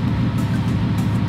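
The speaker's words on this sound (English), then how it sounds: "You're gonna wanna rev your car a couple times to get the air bubbles and the heater core hoses out" Subaru STI engine held at a steady, loud mid-range rev during a cylinder 4 cooling modification install, a continuous droning roar with no speech over it.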